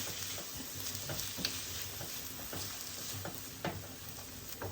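Chopped onion sizzles and crackles in about 100 grams of hot oil in a pan, a steady close frying hiss with occasional pops and stirring scrapes, no voices.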